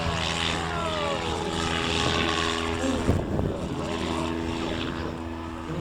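A propeller aerobatic airplane drones steadily at an air show in Belvès-Saint-Pardoux, its engine humming loud and even, with a brief sputtering crackle partway through.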